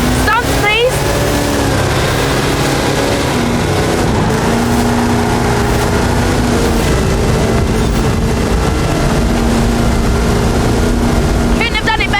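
A Hot Wheels monster truck with a 540 cubic inch Chevrolet engine and 66 inch Terra tyres roars continuously and loudly in Forza Horizon 5, its engine drone running under speech throughout.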